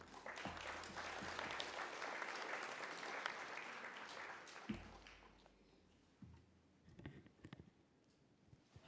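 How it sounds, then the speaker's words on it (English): A crowd applauds Madame Lucy Njenga, a full burst of clapping for about five seconds that tapers off into scattered claps and knocks, quiet overall. "Just another round of applause to Madame Lucy Njenga"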